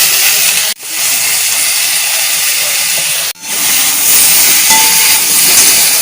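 Water spinach (kalmi shak), salted and with turmeric, frying in a pan gives a loud, steady hiss that cuts out briefly twice, with no talking.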